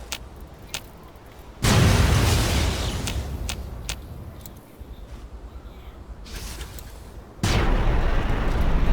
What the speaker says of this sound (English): Let's try the plasma grenades.